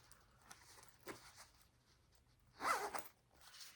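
A zipper opens on the zip-around section of a Michael Kors or Coach handbag, one brisk close zip following a few soft handling taps, heard quietly with no talk.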